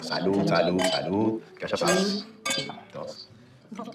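Glasses clink during a toast among several people, with bright chiming taps heard under and between steady conversation.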